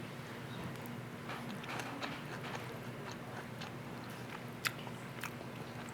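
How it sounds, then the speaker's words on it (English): Crunchy bites and chewing of a rice bowl with crunchy vegetables and sriracha, quiet and close, with soft irregular crunches over a steady low background hum and no talking. "Let me get the perfect bite"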